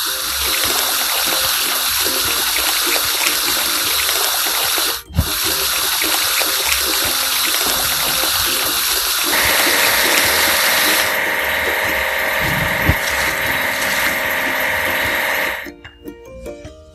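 Loud, continuous water spray hisses for about fifteen seconds as a hydraulic hammer is washed in a children's mobile video game, with a brief break near five seconds and a shift in tone partway through before it stops.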